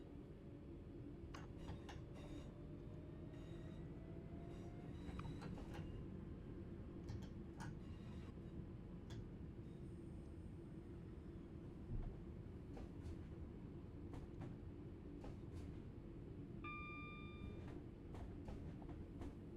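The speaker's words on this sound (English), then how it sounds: "the bumps as we go over the points are great" A train in Train Sim World 5 runs between Manchester Piccadilly and Manchester Airport with a steady low rolling rumble, scattered sharp clicks and knocks as it crosses points, and a brief high tonal chime near the end, all quite faint.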